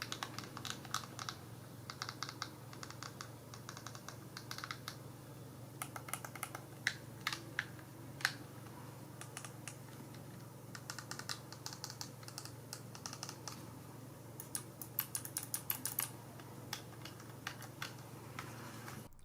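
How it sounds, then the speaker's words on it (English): Buttons on a GameSir X2 Pro Xbox mobile game controller, including the rear buttons, are pressed over and over. They make sharp, quiet clicks, close up, in irregular bursts, with no talking. "the buttons have a really nice clicky feel to them, even the ones on the back."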